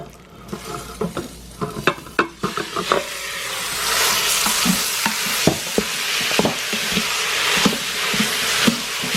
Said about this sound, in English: I'm going to drop in the turkey meat and brown the turkey meat